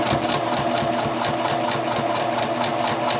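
A sewing machine top stitching a two-piece collar with a stand, running steadily and fast at close range with an even mechanical hum and no pauses.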